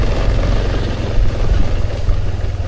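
A drone's propellers whir at a flying field under strong wind, producing a loud, continuous buzzing drone with low rumble and no speech.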